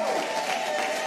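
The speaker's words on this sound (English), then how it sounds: "How about a big round of applause for our friend Chris Johnson, everybody?" Studio audience applauding at the close of a live show, a brief, steady burst of clapping with a faint voice running through it.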